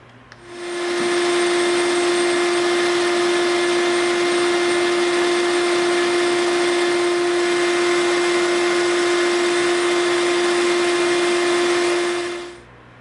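Power tool fitted with a smooth bit grinding EVA foam, one loud continuous high whine with a steady pitch that starts after a second, holds for about eleven seconds, then winds down.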